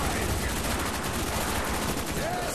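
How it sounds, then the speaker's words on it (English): Dense, continuous gunfire from the Black Ops Zombies map Verrückt in a four-player match, a steady loud rattle of shots with no pauses, with players faintly talking under the din. "Shoot them with Reagan."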